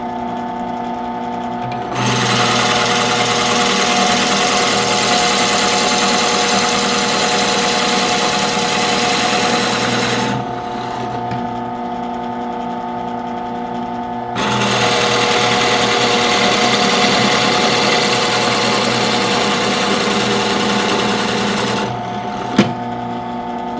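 Circular saw cutting a wooden dowel, a loud steady whine that runs for about eight seconds, stops briefly, then cuts again for another stretch before winding down with a small knock.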